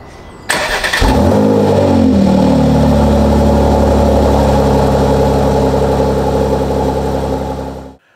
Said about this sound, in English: You always get a loud cold start in this car.